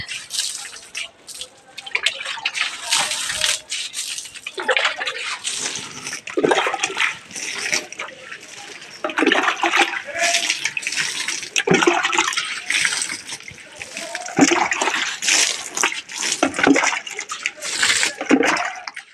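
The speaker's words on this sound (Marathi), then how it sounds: "बघा पाणी शिपतात." Water pours and splashes steadily onto a garden bed being watered for planting amaranth, a continuous rushing and dripping wash that stays near and fairly loud, with no talk.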